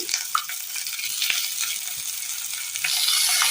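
Garlic, ginger, shallots and curry leaves sautéing in a pan for a Kerala prawn dish, a steady close sizzle with a few scraping stirs, growing louder toward the end.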